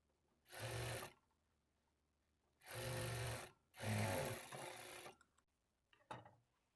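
A sewing machine stitches a lining blouse with a half-inch seam margin in three loud whirring bursts separated by silence, then a brief softer run and a short final click.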